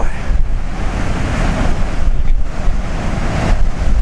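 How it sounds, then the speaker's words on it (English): Rough Pacific winter storm surf crashes and rumbles below a cliff while strong wind buffets the microphone, a loud continuous roar with surging swells and no talking. "What they call angry seas."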